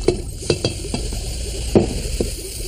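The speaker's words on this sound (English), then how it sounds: "That fizzing is carbon dioxide gas coming off." Baking soda fizzes in a pitcher of vinegar, giving off carbon dioxide as a continuous close crackling hiss, broken by a few light clinks and taps against the container.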